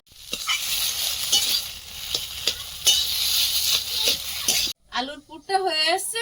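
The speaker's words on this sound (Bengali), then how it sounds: "কড়াইটা গরম হয়েছে আলুটা ভাজতে দেবো" Potatoes sizzle and crackle in a hot wok with occasional clinks of a utensil, then a person starts talking at the end.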